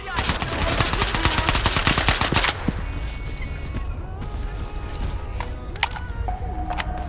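Rapid automatic gunfire in the video game STALKER, a dense loud burst of shots for over two seconds, then quieter scattered shots and game sounds.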